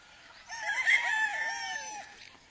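Close rooster crowing, one loud drawn-out cock-a-doodle-doo lasting about a second and a half with faint clucking from other chickens around it.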